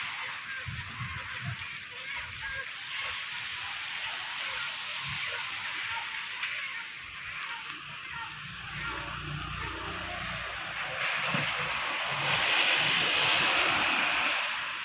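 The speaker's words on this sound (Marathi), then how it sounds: "पावसाला सुरुवात झालेली आहे बघा गरजू गरजू पाऊस चालू झालेला आहे" Unseasonal rain and wind in Dhoki, a broad steady hiss of falling water and gusts that grows louder toward the end, with someone speaking over it.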